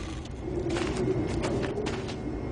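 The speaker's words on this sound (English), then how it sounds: "The machinery's kind of loud, but that's the sound of clean coal technology." Steady, broadband machinery rumble with a low hum and a constant, noisy roar, no voices.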